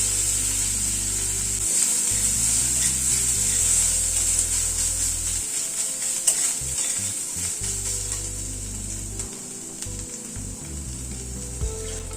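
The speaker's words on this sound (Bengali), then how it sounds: "আদা কুচিটাকে হালকা করে একটু ভেজে নিয়ে খানিকটা নারকেল কোড়া দিয়ে দিচ্ছি।" Chopped ginger fries gently in a pan as grated coconut goes in for mung dal, giving a loud continuous bright sizzle with scattered scraping and stirring noises and a low steady hum beneath, no talk.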